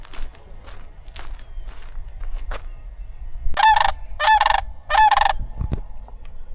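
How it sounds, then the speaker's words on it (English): A large bird, about 3.5 feet tall, gives three loud, close honking calls in quick succession on a Florida trail. Footsteps and rustling can be heard before the calls. "That is a big bird."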